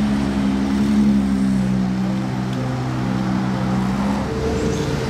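A Ferrari fitted with a Novitec exhaust in Monaco gives off a steady, loud, low droning engine note with sustained harmonics, holding close and continuous for several seconds before shifting pitch slightly near the end.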